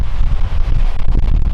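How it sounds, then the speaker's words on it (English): Strong wind near Lake Taupo roars steadily against the microphone, a loud low rumbling buffet with gusty surges and no voices. "It's really windy here today."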